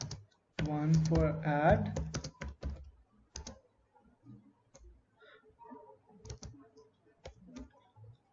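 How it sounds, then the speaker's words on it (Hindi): Keys clack on a computer keyboard while a C++ calculator program is being written, a quick run of clicks under a man's speech, loudest early on and then thinning to sparse taps as he keeps talking. "अब मैं इधर सब कुछ टाइप करूंगा"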